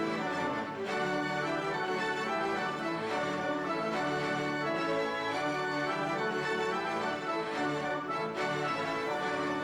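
Lush orchestral music with sustained strings run through a guitar effects pedal, a polyflex into a chorus, giving a thickened, shimmering chorus effect, steady and full throughout with no talking.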